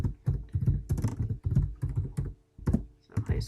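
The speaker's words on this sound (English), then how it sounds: "I'm going to go ahead and type in what I want so I can see what it looks like" Someone types text into a PowerPoint slide on a computer keyboard, producing quick, uneven key taps close by, with a brief gap near the end.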